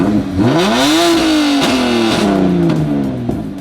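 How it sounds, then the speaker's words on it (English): A BMW E90's engine revs up sharply, holds a high pitch, then falls back with a few more quick blips, loud and close with no talk over it. "there's a look at what happens when you rev it"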